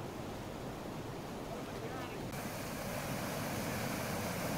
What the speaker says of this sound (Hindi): नदी ओवरफ्लो हो रही है